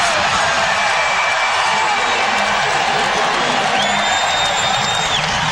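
Basketball arena crowd cheering for Shaquille O'Neal during an Orlando Magic playoff game, a loud, dense roar of voices and whoops that swells toward the end, with a commentator talking over it.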